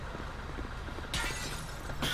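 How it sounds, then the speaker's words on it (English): Glass is smashed in GTA 5, a sharp, bright shatter about halfway through with a second burst of breaking right at the end, over low game ambience. "Just smash the glass on the way in, why don't you?"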